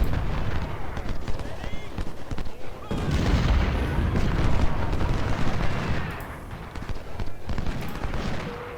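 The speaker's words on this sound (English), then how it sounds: "Our artillery is opening up." Artillery fire in the Civil War strategy game Ultimate General: Civil War at Crampton's Gap, a dense barrage of booming cannon shots and crackling gunfire rolling on throughout, loudest in the middle, with background music underneath.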